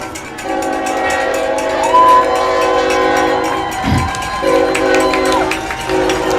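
A train rolls past near a high school football game, its horn sounding in long, loud blasts over the rumble and clatter of the cars.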